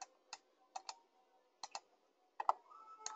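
Sharp, close computer mouse clicks in quiet surroundings: a single click, then paired clicks, spaced out irregularly, with a faint soft background hum.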